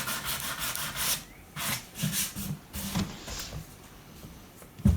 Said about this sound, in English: to make sure that you're not too aggressive about this and don't sand through the veneer